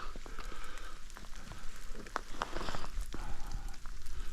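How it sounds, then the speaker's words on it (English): Rain falls outdoors as a steady patter with scattered sharper drops and crackles, moderately close and without voices. "It's rainy and I don't want it to split where I've done all this work."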